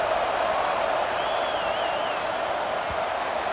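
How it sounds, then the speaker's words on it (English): A stadium crowd roars steadily in College Football 26 during a kickoff, a dense, continuous wash of cheering that holds at an even level throughout. "this crowd is feeling themselves after that last drive"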